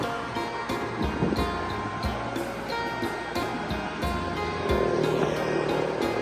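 A roadside waterfall in Laos rushes steadily, a broad continuous wash of water with passing traffic noise mixed in.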